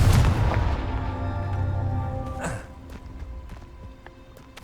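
A Confringo spell goes off in Hogwarts Legacy on PS5 with a loud opening blast and crackling impact, followed by a humming tail and lighter scattered effects that fade toward the end.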